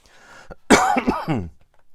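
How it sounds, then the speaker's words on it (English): A short, harsh cough bursts out in a quiet room, followed by a throaty trailing sound before things go still. "Sorry about the coughing thing."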